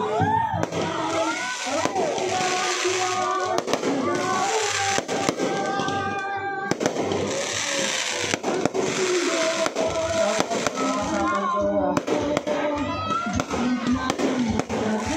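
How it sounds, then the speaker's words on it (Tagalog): Dense crackling and popping of a fireworks display in Urbiztondo going off continuously, with bangs and a crowd murmuring beneath, busy and loud throughout. "talagang dinumog ang ating fireworks display"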